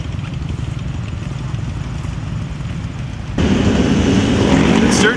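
A military tank driving at Sturgis, South Dakota, its engine a loud continuous rumbling roar that jumps up sharply in volume partway through, heard close and without talk.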